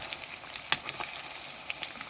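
Fish fries in oil for pickle, a steady, moderate sizzle with one sharp crackle and a few smaller pops and clicks.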